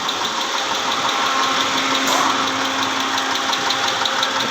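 A 2010 Mitsubishi Pajero with the 6G74 V6 engine running with a knocking fault, a steady close idle with a faint rapid ticking knock and a constant hum throughout, no talking.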